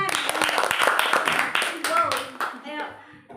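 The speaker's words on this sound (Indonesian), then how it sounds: "Kita beri tepuk keren." A group of children claps in a classroom during a chanted "cool clap" routine, with bursts of sharp hand claps mixed with loud, overlapping young voices.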